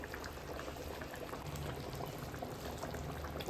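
Fish curry with cut okra pieces simmers gently in a pot, giving a faint, close, continuous bubbling with no talking.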